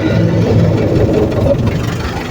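A heavy YuMZ tractor engine idles close by with a deep, steady rumble and slight knocking pulses, running continuously with no talking.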